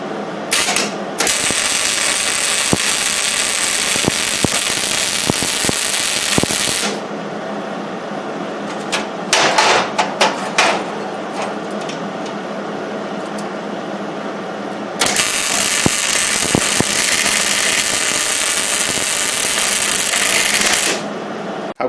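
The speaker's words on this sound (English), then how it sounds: "I'm going to go ahead and weld this side and this side with the settings at 3 and 35" A Hobart 140 MIG welder runs beads along steel seams. The close, crackling sizzle comes in two long bursts, with a quiet gap between them that holds a few clicks and handling noises.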